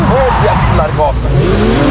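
A Porsche 911 GT3 (992) accelerates hard on a race track with a loud, close engine roar and rising pitch, while people talk over it inside the car.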